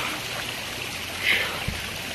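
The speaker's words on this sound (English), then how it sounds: "Take a little break here, listen to the waterfalls." Steady rushing of a small pond waterfall spilling over stacked basalt columns in a garden aquascape, a constant broadband wash of falling water heard close, with a brief soft bump near the end and no talking.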